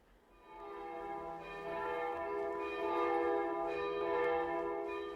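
Church bells peal for New Year's Eve 1917, a steady, resonant ringing with rich sustained overtones that swells slightly and holds loud throughout, with no voices.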